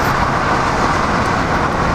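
A white taxi car drives past on a road, a steady loud roar of engine and tyre noise filling the whole moment with no voices.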